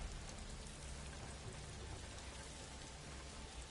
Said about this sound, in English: I'm just enjoying the rain right now.